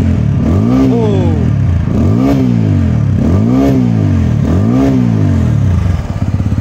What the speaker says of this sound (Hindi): ओ गॉड, जबरदस्त एग्जॉस्ट नोट है गाड़ी का